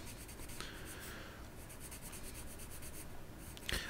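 Graphite pencil shading a leather texture drawing on paper, a soft continuous scratchy rasp from close up with a brief sharper tap near the end.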